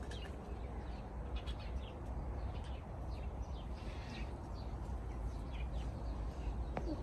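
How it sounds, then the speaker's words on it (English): Many birds chirp and coo over a low, steady background rumble outdoors, with scattered short tweets and calls at varying distances, fairly faint overall and no talking. "you can hear the sounds of many birds here"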